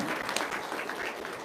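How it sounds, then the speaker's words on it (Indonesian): Dense, continuous applause from an audience at a gathering, filling the short moment on its own with no talk. "Tepuk tangan dong."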